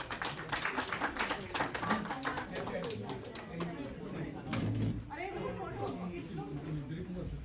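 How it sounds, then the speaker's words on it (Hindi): Crowd at a birthday celebration event applauds an actress, with dense, quick clapping that fills the first half and then thins out into scattered claps amid chatter and talking voices. "एक बार जोरदार ताली हो जाए।"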